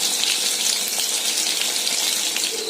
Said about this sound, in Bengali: এদিকে ভাজা চলছে।